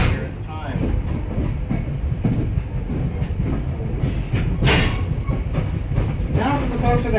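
Riding aboard a train pulled by N&W 475 steam locomotive on the Strasburg Railroad, with continuous rumbling wheels and rhythmic clickety-clack over rail joints, steady and loud, while someone talks over it.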